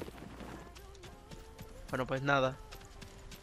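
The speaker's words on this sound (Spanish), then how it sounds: "Ponte el maldito caballo entonces" A horse gallops in the video game Realm Royale, its hoof clip-clop running under someone talking in Spanish, with a brief louder burst near the middle.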